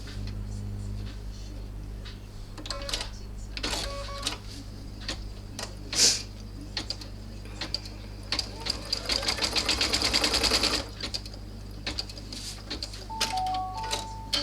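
An embroidery sewing machine stitches a placement line onto wallet lining with fast, even mechanical ticking that builds into a dense whirring run mid-clip, close up, with a few faint beeps and clicks around it.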